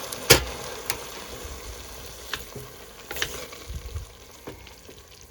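Plum butter with alcohol bubbles quietly in a pot, giving faint soft pops and light stirring scrapes, with a low hiss underneath.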